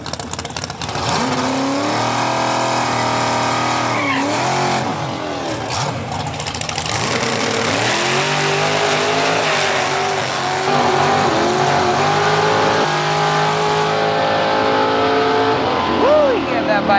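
A drag car on a trans brake set to 3,500 RPM, with tires aired down to 10 PSI, revving hard and launching: loud sustained engine roar with rising and falling revs, while voices talk over it.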